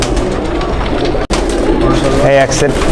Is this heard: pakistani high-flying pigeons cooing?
yes